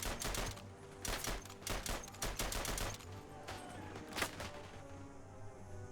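An 8x50 light machine gun firing in the snowy World War I game Isonzo, rapid bursts of fast repeated shots with short pauses, fairly close, followed by scattered quieter distant fire.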